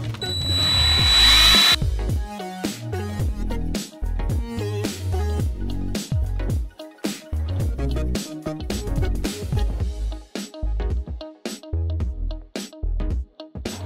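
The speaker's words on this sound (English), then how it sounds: "I'm gonna drill this up a little bit" A power drill bores out and enlarges a hole as an improvised fix, running in loud, repeated bursts of whining rotation that stop and start throughout, with no voices.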